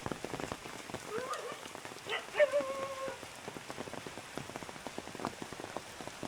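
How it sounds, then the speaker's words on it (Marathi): Rain falling steadily at an outdoor spot in Malad, Mumbai, a soft continuous patter with scattered drop hits, a few faint voices and sounds in the background. "त्यात मस्त पाऊस पडतोय, एक नशीब एक पाऊस पडतोय"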